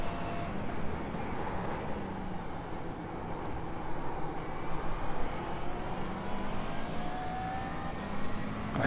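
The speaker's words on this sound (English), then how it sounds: "I do love the way the McLaren sounds, at least. Nice tubular V8 noise." A McLaren V8 engine drones and rises under acceleration, heard from inside the cabin, with a steady rumble and some road noise.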